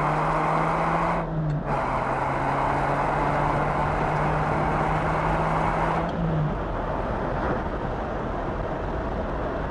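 A 2000 Ferrari 550 Maranello's engine drives hard on a race track during a Ferrari Challenge event. It is loud and close and holds steady, with a sustained engine tone that drops briefly near the start and again around the middle, as gears shift and the car accelerates.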